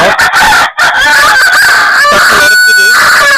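Laying hens and roosters in a farm pen raise a loud, continuous din of overlapping crowing and clucking, close by, with barely a break throughout.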